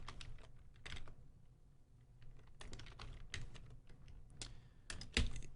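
Typing on a computer keyboard, with close, quiet bursts of key clicks in uneven clusters and short pauses between them.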